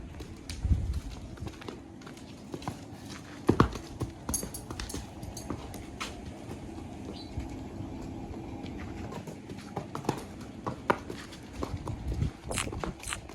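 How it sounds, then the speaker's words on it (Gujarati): A mare's hooves clip-clop at a slow walking pace on a hard surface at a farm, irregular and moderately close, with faint background noise and occasional louder knocks. "તો તમે જોઈ રહ્યા છો અત્યારે ઘોડી આટા મારી રહી છે"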